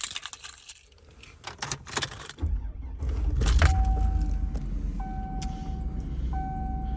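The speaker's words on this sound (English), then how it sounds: "Let's grab the keys." Car keys for a 2005 Hummer H2 SUT jangle in a few quick metallic bursts up close, followed by an engine starting and idling low while a series of steady electronic chimes sound from the cabin.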